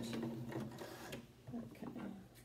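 Sewing machine sewing a face mask, short bursts of stitching up to the edge with brief stops, close and fairly quiet.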